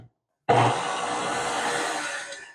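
A stand mixer fitted with a whisk attachment starts abruptly after a moment of silence and whirs steadily at high speed, beating egg whites with a continuous bright buzzing hum.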